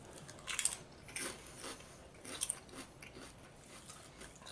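Lay's Do Us a Flavor potato chips being chewed close to the mouth, a series of crisp crunchy bites and munching at an irregular rhythm, fairly quiet, with no talking.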